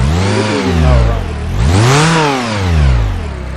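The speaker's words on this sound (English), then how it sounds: "And the engine now runs." A car engine, running again after a faulty ECM was replaced, revs up and down in three smooth, close sweeps, loud and alone with no talk.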